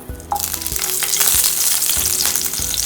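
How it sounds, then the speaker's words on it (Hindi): Green chillies drop into a hot tawa for a mixed vegetable fry, giving a loud, steady oil sizzle with sharp crackles and a few stirring knocks, close up and with no voices. "अब मैं इसमें डालूंगी ग्रीन चिल्ली"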